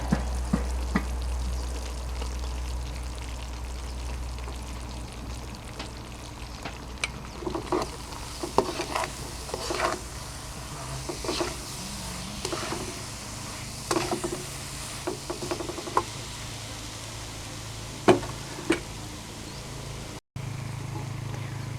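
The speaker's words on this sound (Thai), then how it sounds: "ใส่ลงไปแล้วก็ผัดไปเรื่อย ๆนะคะ" Peanuts are stir-fried in melted sugar and salt in a pan, with steady sizzling and repeated scraping strokes of a spatula that continue close and fairly loud throughout.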